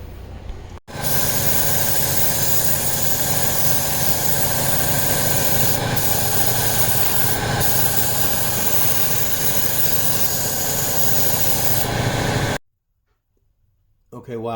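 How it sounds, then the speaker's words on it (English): An air compressor blasts air to spray water off a freshly washed car, a loud continuous close-up hiss and rush that runs for about twelve seconds before stopping abruptly into near silence. "I'll spray it out with the air compressor"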